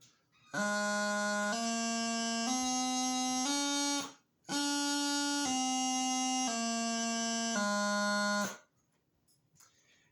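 A bagpipe practice chanter plays a scale, a steady reedy buzzing tone stepping through several held notes, breaking off briefly and then repeating the same sequence, alone and close.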